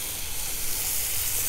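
Chuck eye steaks sizzle on a 200,000 BTU high-pressure low-profile burner, a steady loud hiss and crackle of searing meat and roaring flame filling the whole moment with no talk.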